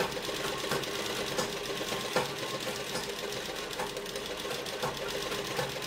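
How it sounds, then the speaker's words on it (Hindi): A sewing machine stitches pleated fabric onto the body of a pregnancy dress, running in a continuous, even mechanical whir with fast rhythmic needle clatter up close. "ऊपर हमारा बॉडी वाला कपड़ा है और इसे अब हम यहाँ से सिल देंगे।"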